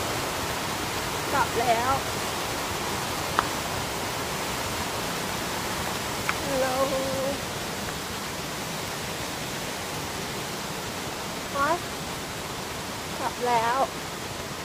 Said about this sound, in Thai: มาเที่ยวน้ำตก